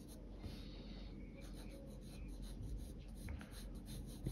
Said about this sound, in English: Let me just use a pencil to point that out.